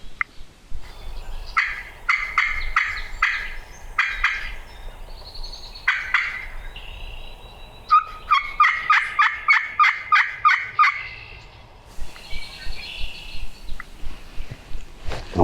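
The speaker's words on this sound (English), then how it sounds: "He may have heard our hen yelp and just finally gobbled up." Wild turkeys gobble repeatedly in rapid rattling bursts in Iowa, some close and loud, others fainter, with short pauses between volleys.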